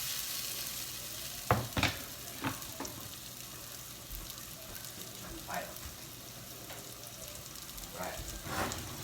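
Potatoes hitting a still-hot pan for breakfast burritos crackle and sizzle in a steady hiss, with a few sharper pops and scraping stirs scattered through, fairly close.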